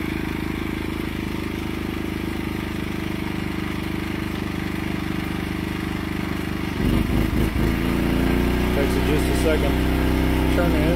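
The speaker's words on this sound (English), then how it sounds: "So now we plug it in and then the inverter will kick in and it'll rev up because it's on eco" A portable inverter generator running in eco mode, steady engine hum that jumps louder and busier about two-thirds through as a load is connected and it revs up, staying higher to the end.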